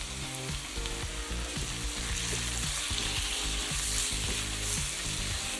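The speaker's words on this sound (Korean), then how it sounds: "기름과 야채에 양념장을 달달달달 볶아주시는 거예요" Seasoning sauce fries with oil, garlic and cabbage in a pan for spicy stir-fried webfoot octopus, a loud, constant sizzle under rhythmic stirring thumps and scrapes, no talking.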